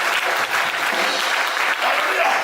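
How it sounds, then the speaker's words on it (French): A church congregation claps together, dense, lively applause that goes on without pause and fills the room. "Clap for Jesus."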